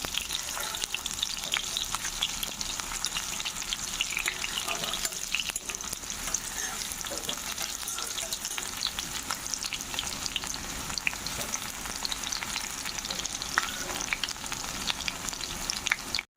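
Onions with green chillies fry steadily in a pan while being browned for a spicy okra and potato dish, a continuous dense sizzle holding evenly throughout with a few faint stirring scrapes.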